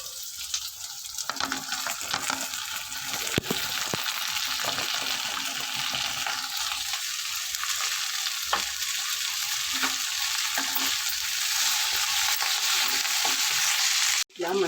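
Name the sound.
okra pieces frying in a pan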